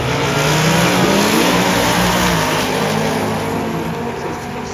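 Cars, including a Mustang, roaring down a drag strip at a street car meet at zMAX, engines revving hard and loud with a broad rushing noise that eases slightly as they pull away.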